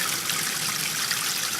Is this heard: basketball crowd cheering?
no